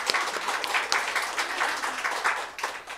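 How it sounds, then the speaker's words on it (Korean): Church congregation clapping during a Sunday afternoon service, a moderate, uneven wave of hand claps with distinct individual claps standing out, fading slightly toward the end. "박수."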